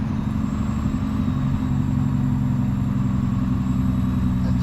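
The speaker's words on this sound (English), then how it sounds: "And Sedona does have an exhaust brake. Yeah, you can hear it" A 2013 Kenworth T370 wrecker with a 350 HP Paccar PX9 engine drones with its exhaust brake engaged, giving a steady, deep, continuous rumble heard from inside the cab with no talking.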